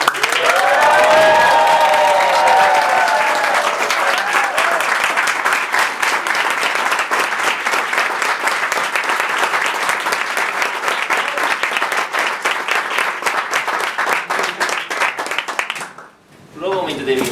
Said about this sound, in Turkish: Ya beni alkışladın.